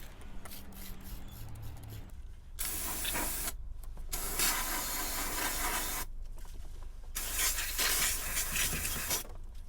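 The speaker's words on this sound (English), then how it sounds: "I'm going to try to clean it with some degreaser." Degreaser sprayed onto greasy engine parts during a Mitsubishi 3000GT VR4 timing belt service, heard as several long hissing bursts, each a few seconds long with short pauses between, close and fairly loud with no talking.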